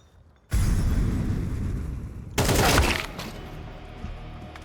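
Gunfire in Counter-Strike 2 erupts in two loud, close bursts of rapid shots, the second brief and sharp, then fades into a lingering echo.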